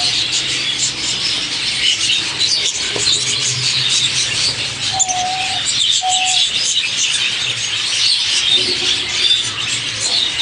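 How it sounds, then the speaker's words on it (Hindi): Home-bred violet rainbow budgie chicks chirp in a loud, constant chorus of busy high twittering, with a few louder squawks rising above it. "ये कितने प्यारे प्यारे वॉयलेट रेनबो के चिक्स प्रोड्यूस हुए हैं"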